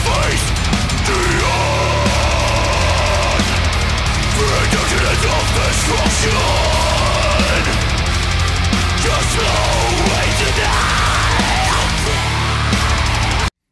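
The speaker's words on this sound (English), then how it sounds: "let's have a listen to the band first." A heavy metal band, with dense distorted guitars and pounding drums in a loud, continuous wall of sound. It plays without any talk over it.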